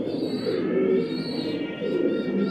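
Racing pigeons coo in low, soft, repeated calls close by, with a few bird chirps mixed in.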